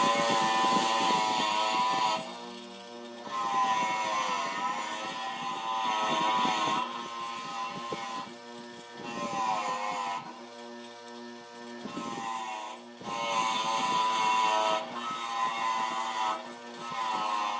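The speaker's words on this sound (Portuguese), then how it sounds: "escovar, tentar tirar o máximo dessa sujeira aqui nas partes que eu vou fazer a" A wire brush scrubs oxidation off carbon steel before TIG welding in loud, coarse bursts of scraping noise of about two seconds each, separated by short quieter gaps, with a steady grinding hum underneath.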